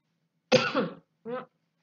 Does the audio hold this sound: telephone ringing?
no